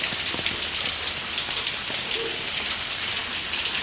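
Steady rain falls and is collected as rainwater in a large vessel, a dense continuous hiss of drops drumming on surfaces, loud and close, with no voices, cutting off abruptly at the end.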